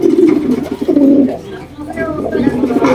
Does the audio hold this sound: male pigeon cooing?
yes